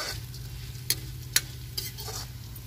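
Urad dal sizzles and fries in a pan in a village kitchen, a steady low crackle with a few sharp scrapes and clinks as it is stirred, close up and with no talking.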